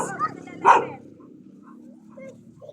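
A couple of short dog barks or yips close by near the start, then quiet background noise with faint sounds.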